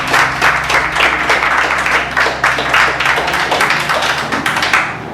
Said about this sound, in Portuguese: E as palmas com você.